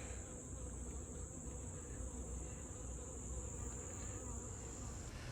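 Bees from hurricane-damaged hives in West Louisiana give a faint, steady buzz over low background rumble, continuous and quiet throughout.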